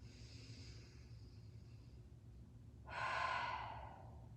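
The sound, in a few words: deep breathing during restorative yoga, exhaling through mouth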